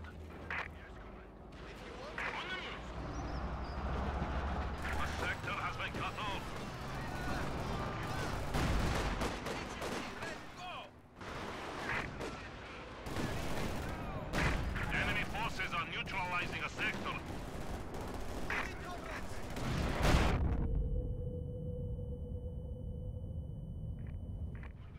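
Katyusha rocket artillery fires a barrage in the strategy game Company of Heroes 2, with dense overlapping blasts and rumbling impacts that end abruptly. Battlefield radio voices and unit chatter sound over the barrage.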